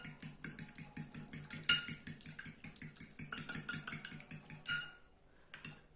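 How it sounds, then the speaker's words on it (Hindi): An egg being beaten in a bowl with nothing added, a fast steady clatter of utensil against the bowl, close and rhythmic, pausing briefly near the end. "सबसे पहले हम अंडे को तोड़ लेंगे। और इसमें बगैर कुछ डाले हम इसको बीट कर लेंगे।"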